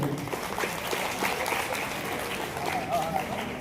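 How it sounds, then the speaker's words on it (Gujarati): An audience applauds at a student award ceremony held by a Prajapati youth development association in Anand, sustained, even clapping with a voice speaking over it. "તાળીઓ પટી રહી છે."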